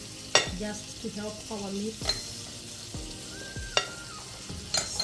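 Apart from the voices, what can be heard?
butter sizzling in a hot pan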